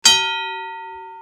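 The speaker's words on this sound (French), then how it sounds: "C'est la sonnette de porte. C'est l'ancêtre de la sonnette de porte." An antique crank-operated door bell gives a single bright metallic strike, then a clear ringing tone that slowly fades over about a second, alone in a quiet room.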